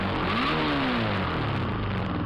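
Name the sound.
Suzuki Across motorcycle engine revving after carburetor install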